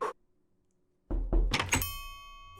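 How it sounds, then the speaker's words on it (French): Door sound effect: a quiet opening click, then a pause and a solid thump-and-rattle of a door closing, followed by a faint lingering ring, with no talk. "Le bruitage de porte"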